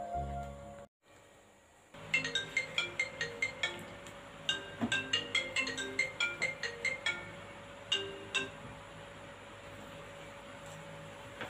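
A telephone ringtone chirps in rapid repeating bursts at moderate volume over a steady background hum, made while calling a doctor from home.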